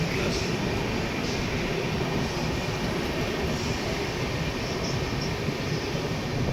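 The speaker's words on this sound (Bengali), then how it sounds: "5 মিনিটের হল্ট দিয়ে ট্রেন ছাড়লো কটক জংশন" The Amaravathi Express pulls out of Cuttack Junction, its steady, loud rumble filling the air evenly with no breaks or horn blasts.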